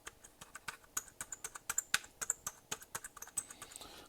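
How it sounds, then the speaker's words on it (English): Unscrewed rubber dome keyboard on a Sail VI-201 computer, its keys pressed in a quick irregular run of close, crisp clicks with faint squeaky creaks, alone with no voices. "This is the keyboard that I've unscrewed. It's actually, it's a little squeaky."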